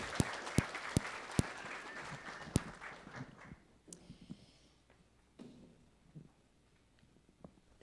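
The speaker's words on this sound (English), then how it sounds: "Can we give a round of applause to our panelists?" A church congregation applauds its panelists with a few sharp, close claps at first. The clapping then thins into scattered, fading claps and quiet shuffling.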